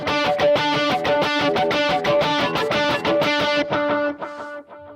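Distorted electric guitar strummed open in a steady, driving rhythm, loud and buzzy, with the last chord fading out alone.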